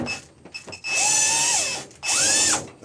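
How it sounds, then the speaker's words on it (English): Electric drill with a small angle attachment boring a tiny hole in a GE washing machine part, two short high-pitched whirring bursts that rise and wind down, close and fairly quiet. "Get in here, just a tiny bit of drill, that's all I need."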